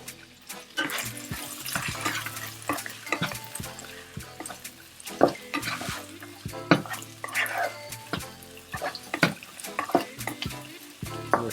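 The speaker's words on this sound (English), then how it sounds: "we'll add in the rice. At this stage, I will also add in the mushrooms" Tom yum fried rice with mushrooms and shrimp being stir-fried in a pan, with repeated scraping and stirring strokes over a soft, steady sizzle, fairly close and without speech.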